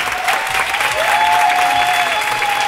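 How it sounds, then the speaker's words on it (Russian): Steady, loud audience applause and cheering at an open-air Pro-Am ballroom dance event in Kyiv, dense clapping sustained throughout with a faint whistle-like tone above the crowd. "Аплодисменты!"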